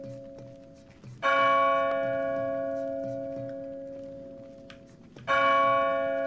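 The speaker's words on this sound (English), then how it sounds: "Where's the bell tower? It's up there." Church bell tower tolling the hours in the Splinter Cell level at the Georgian Presidential Palace: two loud, ringing strikes a few seconds apart, each with a long, slowly fading metallic hum, with no talk over them.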